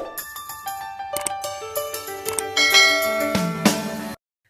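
Notification bell sound effect, a bright chiming jingle of rapid bell strikes with ringing overtones that builds and layers, then cuts off abruptly into silence.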